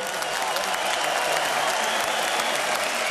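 An arena crowd at a Dariusz Michalczewski vs Alejandro Lakatos boxing match applauds both fighters, a dense, steady wash of clapping that holds evenly for the whole stretch.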